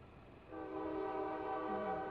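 A passing train heard faintly at a distance, a low steady rumble swelling after a brief quieter start and holding on, with sustained tonal rail noise through the rest of the clip.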